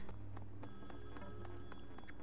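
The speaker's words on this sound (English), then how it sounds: "I gotta answer the phone" Repeated telephone ringing from the Splatoon 2 video game, steady electronic ring tones pulsing in a regular rhythm over a constant low hum, clear and continuous with no talking.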